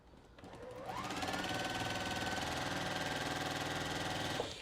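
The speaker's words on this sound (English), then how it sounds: "You're just sewing to build your own little pieces of fabric." A sewing machine runs steadily while stitching fabric scraps together, a continuous mechanical whir with a rapid needle rhythm that starts up after a brief pause and stops abruptly near the end, close and alone.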